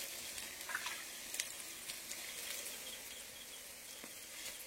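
Onion, ginger, garlic and green chilli frying in a pan for a chicken curry make a faint, steady sizzling hiss with a few light stirring clicks.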